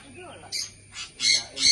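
Several short, bright bird calls in quick succession, fairly close, over quiet background with a faint voice, on green farmland.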